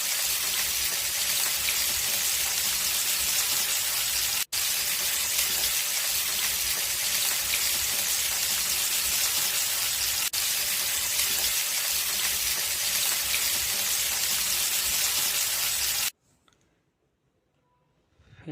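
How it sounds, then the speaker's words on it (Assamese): Fish pieces fry in hot oil for a fish curry, a loud, steady crackling sizzle with dense popping that runs continuously up close before cutting off abruptly near the end. "তেল গৰম হোৱাৰ পিছত অলপ পৰ মাছ পিচ দি পেলাই তাত ৰাখিব লাগিব"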